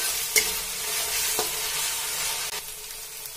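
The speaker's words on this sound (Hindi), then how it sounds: "इसे हम 1 मिनट तक अच्छे से फ्राई कर लेंगे।" Spring roll filling frying and being stirred in a pan, a steady close sizzle with a few sharp scrapes of the spatula and no talk.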